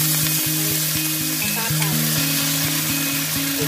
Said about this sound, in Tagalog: mainit na yung ating mantika, iprito-prito po